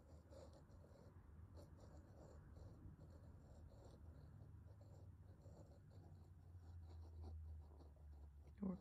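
A ballpoint pen scratches steadily across paper, drawing one unbroken line. The soft, continuous scraping sounds close and quiet, with a faint low background hum.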